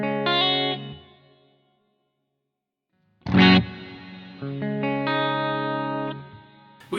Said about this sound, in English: Now he had a big cathedral reverb